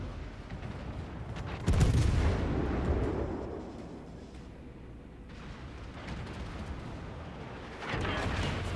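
Enemy cruiser gunfire in a naval warship video game: a heavy booming blast that rolls into a long rumbling decay, followed later by another loud burst, without speech.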